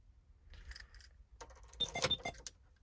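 A car key jangles as it is pulled out and pushed back into the ignition of a vehicle fitted with an RFID killswitch, a few soft metallic clinks and rattles, close and quiet, ending in a brighter burst of jingling.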